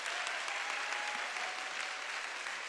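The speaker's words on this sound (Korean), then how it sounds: "우리 박수로 한번 격려해주고" A church congregation at a Thanksgiving intergenerational service applauds in encouragement, a steady, even wash of many hands clapping throughout, fairly soft and distant.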